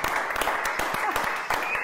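Studio audience applause greeting an interview guest, a brief burst of clapping and cheering with some voices mixed in, moderately loud throughout the short clip.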